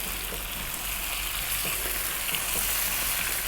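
Chunky peeled potatoes being stirred in a cooking pot for a chicken potato stew, with a steady close hiss and sizzle and faint scraping throughout.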